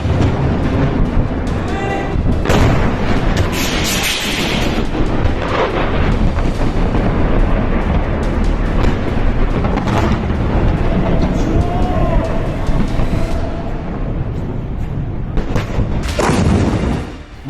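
Heavy explosions from an Iranian ballistic missile strike on Tel Aviv roar and rumble in repeated booms, loud and dense, with a continuous thunderous background of blasts and debris.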